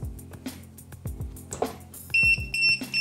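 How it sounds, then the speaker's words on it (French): An FPV drone's onboard buzzer beeps in a steady repeating pattern of high-pitched pulses after its battery is disconnected, with earlier clicks and tones from the drone before it starts, and no one talking. "si je débranche la batterie, le buzzer se met à sonner"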